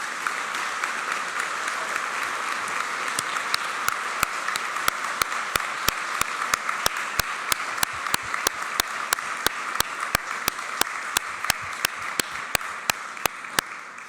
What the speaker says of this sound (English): Al Swedberg, and Chuck Watson a big SPUD round of applause.